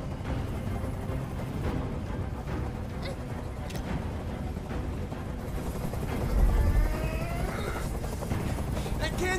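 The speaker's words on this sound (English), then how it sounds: "I can't stand that noise anymore. Tell that helicopter to get out of here." A helicopter hovers overhead in the video game Detroit: Become Human, making a continuous heavy rotor rumble and whir that fills the scene at steady loudness, with a low thump partway through.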